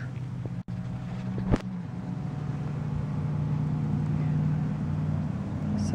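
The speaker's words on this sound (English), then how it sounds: "It's a little windy out here." Low, steady wind noise rumbling against the microphone outdoors, with a faint engine-like drone and a couple of brief knocks.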